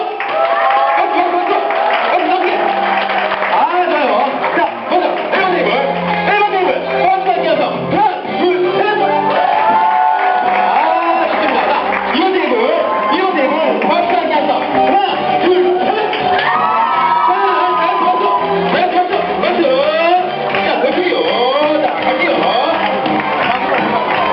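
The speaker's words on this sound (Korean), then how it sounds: "더 크고 더 힘찬 박수와 함께 함성 부탁드리면서" Loud, sustained applause and cheering from a crowd of guests at a Korean first birthday party, with clapping, shouts and whoops filling the room continuously for over twenty seconds as voices mix in.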